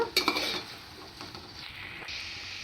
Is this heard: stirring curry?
yes